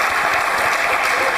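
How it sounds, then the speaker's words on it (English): A lecture-hall audience breaks into a brief, full burst of applause. The clapping is loud, dense and continuous throughout the short moment. "big round of applause."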